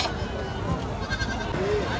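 At a busy goat market in Kerala, goats bleat in short cries over a dense crowd murmur, with people talking throughout.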